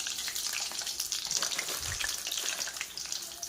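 Eggs fry in hot oil on a gas stove, a loud, close, steady hiss laced with rapid popping and spattering crackles.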